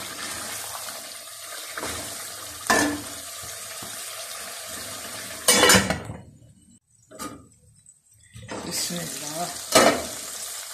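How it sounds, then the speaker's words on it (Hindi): Mutton pieces sizzling and being stirred in a pan with a splash of water, ahead of adding bitter gourd, with steady crackling frying noise, scraping stir strokes and a few louder bursts, close and continuous. "ये देखिए कितना प्यारा गोश्त भून रहा है।"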